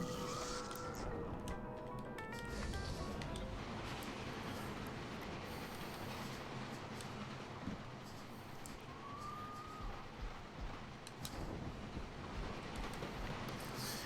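A train rolls along in a video game sequence, producing a continuous rumbling clatter with brief squealing tones over it, steady and fairly quiet throughout with no talk.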